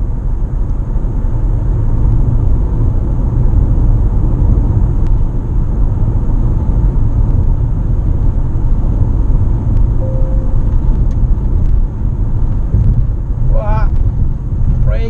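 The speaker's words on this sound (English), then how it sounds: "Now this might be a really bumpy road here." Plug-in hybrid car rolling along a really bumpy rural road, a steady loud low rumble of tyres and cabin noise throughout with a brief tone near the end.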